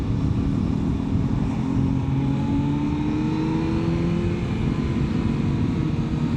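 Busy road traffic with cars passing, a continuous rumbling wash of engines and tyres with a few vehicles rising and sweeping by nearby, no talking.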